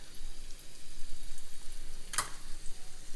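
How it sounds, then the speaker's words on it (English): Steak, onions and mushrooms fry in a pan for a steak and cheese sub, giving a steady, soft sizzle with one sharp brief crackle midway and no talking. "You're going to put all the meat for 1 sub in the middle of the pan."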